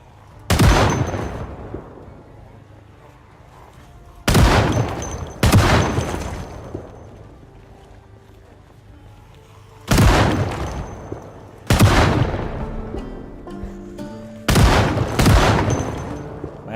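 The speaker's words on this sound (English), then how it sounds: "Look at me sitting here shooting my gun." Six loud, sharp gunshots fired by a player in Project Zomboid, each a single booming report followed by a decaying echo, spaced irregularly several seconds apart with quiet in between.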